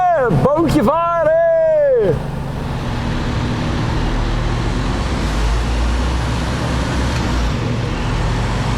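A ferry bound for Texel under way with a Mercedes Actros showtruck aboard, a steady low engine rumble and road-like drone filling the space, with a voice speaking loudly over it at the start.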